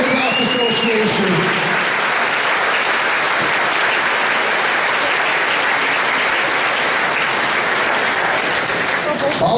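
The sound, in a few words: audience applause for Campbell River Minor Lacrosse Association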